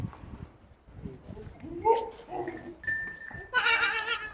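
A Makhi Cheeni goat bleats several times in short, wavering cries close by, mixed with people talking nearby.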